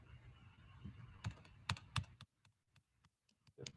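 Quiet computer-keyboard typing during a C programming lecture, a scattering of soft close keystrokes in irregular rhythm over faint room hum.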